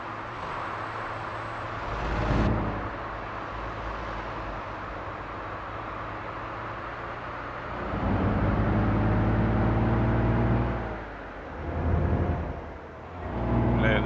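Heavy truck with an automatic gearbox on an Alaskan road, a steady low engine drone that shifts pitch as the gears change, with a rise and a swelling surge partway through, near and constant.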